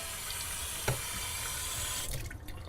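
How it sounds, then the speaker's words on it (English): Tap water runs over a drinking glass in a steady close hiss with a brief clink or splash near the start, alone and without talk. "I'm going to run some of your tap water over this glass"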